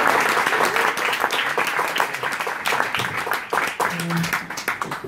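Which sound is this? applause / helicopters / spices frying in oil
applause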